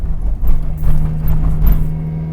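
A Proton Saga car engine drives uphill on the road to Genting, with a steady low drone and a constant hum throughout. No voices are heard.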